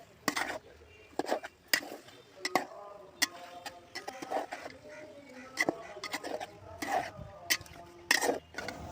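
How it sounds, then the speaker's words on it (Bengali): Spatula scraping and clinking against a pan as papaya, potato and spices are stirred together, irregular close knocks and scrapes, fairly quiet with a faint background voice. "ভালো করে নেড়ে ছেড়ে প্রায় 5 থেকে 7 মিনিট মতো কষিয়ে নিব।"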